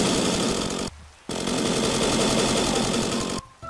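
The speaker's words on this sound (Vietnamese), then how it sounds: "Ôi, nghe cái tiếng máy cưa đã thiệt" A chainsaw runs in Minecraft with a loud, continuous buzzing rasp. It cuts out abruptly twice for a fraction of a second, then resumes.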